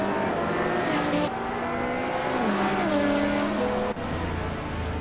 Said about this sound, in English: The car is accelerating out of the first corner.